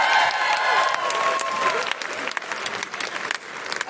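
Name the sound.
audience applause for Donna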